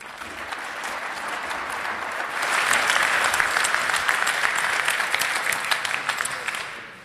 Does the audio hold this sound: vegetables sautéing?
no